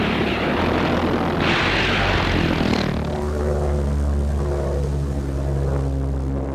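A V-1 flying bomb's pulse-jet engine passing overhead gives a loud, continuous droning rumble with a steady throbbing pulse, growing rougher and stronger midway, with no voices.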